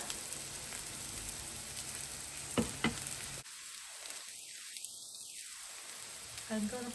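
Onions and spices frying in a pan on a low flame for Kerala-style pork roast: a soft, steady sizzle with a few sharper clicks, briefly broken by a quiet gap before the gentle frying noise returns.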